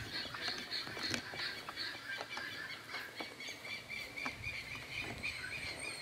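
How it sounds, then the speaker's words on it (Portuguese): Guinea fowl call from far off on a farm, a faint, repeated chorus of harsh, rhythmic cries carrying over low outdoor ambience. "Tá escutando, gente? As galinhas da Angola?"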